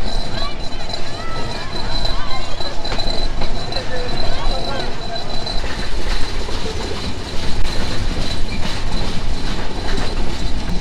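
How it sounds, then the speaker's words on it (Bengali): Ruposhi Bangla Express running fast on rail track in Bangladesh, a loud continuous rumble with rhythmic wheel clatter and faint squeal, heard from aboard with a voice talking over it. "এই ট্রেনটি এত গতিতে চলে যা আসলে অতুলনীয়"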